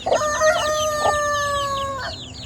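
Chickens cluck close by, giving a few loud, tonal squawks and clucks in short bursts, with brief pauses between them and faint background noise.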